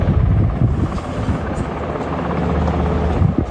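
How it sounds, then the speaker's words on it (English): Military helicopter hovering above a sports field, a steady, loud rotor and engine roar with a low pulsing thump that holds continuously throughout, with no voices. "Looks like it's a military helicopter hovering above the sports field here"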